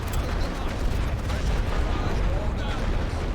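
Artillery fire in the World War I video game The Great War: Western Front rumbles as a continuous low, dense barrage of distant booms, steady and unbroken for a few seconds.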